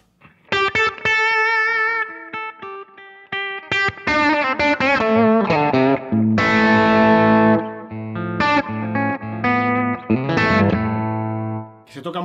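An electric guitar through an overdrive pedal plays chords and single notes with a thick, crunchy overdriven tone, sustained and fairly loud throughout.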